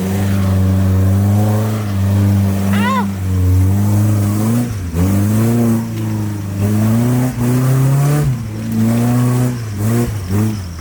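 A four-cylinder rock crawler engine revs hard and close on a trail in West Virginia, its pitch climbing and dropping in repeated surges as it strains off the line, with voices faintly mixed in.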